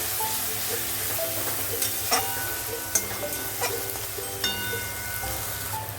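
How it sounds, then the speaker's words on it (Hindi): Ginger garlic masala paste frying and being stirred in a pan, a continuous dense sizzle with intermittent scraping and clinking of the spoon, close up and without speech. "डाल के हम चला देते हैं अच्छी तरह और अच्छी तरह भूनना है मसाला को।"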